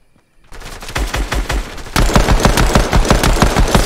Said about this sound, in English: I'm gonna tap them off with a pistol